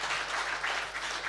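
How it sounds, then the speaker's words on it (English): Brief applause from a church congregation at a main service for a speaker, a soft, continuous patter of hands that stays even and fairly distant for a moment. "A round of applause for Comrade Stephen."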